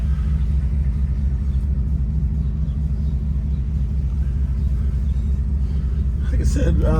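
A 2019 Ford F150 with the Coyote 5.0 V8 and MBRP aftermarket exhaust rumbles steadily as it accelerates, a deep, loud, continuous drone heard from inside the cab, with a voice talking over it.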